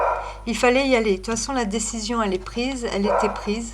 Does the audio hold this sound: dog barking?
yes